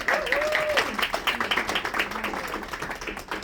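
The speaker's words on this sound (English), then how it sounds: "let's give them a round of applause again" Audience applause at a book signing networking event, steady dense clapping at moderate distance with a voice speaking over it.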